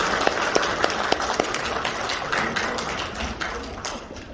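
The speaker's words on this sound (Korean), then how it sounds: "좋은 공연으로 오늘 강연회를 아름답게 이뤄주신 우리 6명의 어린이들에게 다시 한번 큰 박수 부탁드립니다." Audience applause in a conference hall honoring six children after their performance, a dense crowd of claps with a few sharper taps standing out early, steady and fairly close, with no talk over it.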